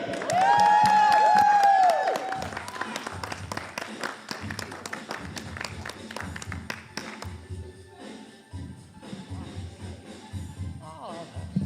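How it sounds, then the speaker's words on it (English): Comedy show audience applauding and cheering a comedian, a loud burst with a rising whoop at the start, then clapping thinning into scattered claps and taps before dying away. "Keep that applause going for the grandma of comedy herself"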